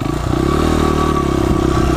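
A motorcycle engine revs just after being shifted into first gear, a loud, close, rapidly pulsing drone with a steady tone that lifts slightly and holds, carrying a faint mechanical clatter.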